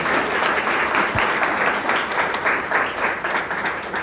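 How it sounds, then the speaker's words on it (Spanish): A room of people applauds at a financial literacy event held by Panama's banking superintendency, giving continuous, moderately loud clapping that swells and dips slightly and holds throughout. "así un aplauso para ustedes."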